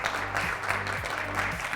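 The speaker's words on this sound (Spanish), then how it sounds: "Volvamos a darle un aplauso desde acá, por favor, al presidente por su discurso." An audience at a construction-week dialogue session applauds the president after his speech, with dense, continuous clapping that stays loud and even throughout.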